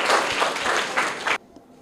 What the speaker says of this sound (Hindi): करेक्ट आंसर है, जोरदार तालियां इनके लिए।